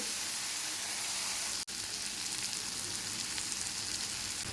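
Chilli paste sautéing in a pan with fried potato for a bitter gourd and foli fish curry, giving a steady bright sizzle that cuts out for an instant, then carries on evenly.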